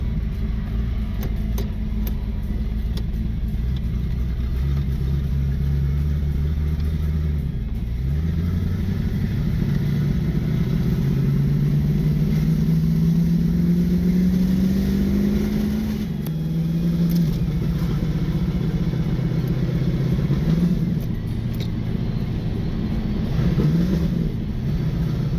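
A Ford Falcon Fairmont driving with its transmission slipping: a steady engine drone whose pitch rises and dips through shifts, loud and close from inside the car, with no talk.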